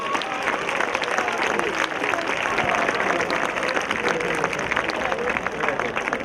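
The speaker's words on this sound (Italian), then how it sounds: "l'applauso di Ittiri." Sustained, dense audience applause fills a festival crowd in Ittiri, continuous rapid clapping at moderate distance with a faint murmur of voices underneath, lasting throughout.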